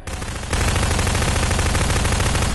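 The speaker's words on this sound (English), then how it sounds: "I hear people shooting, but I can't find any people" Prop Hunt video game gunfire, a dense continuous rapid-fire burst that gets louder partway through and holds at a steady, close level.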